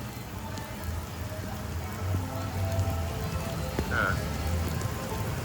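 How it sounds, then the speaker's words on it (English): Steady, soft rain patters on surfaces all around at Kings Island amusement park, a continuous gentle hiss with no one speaking. "It was not supposed to rain until tonight."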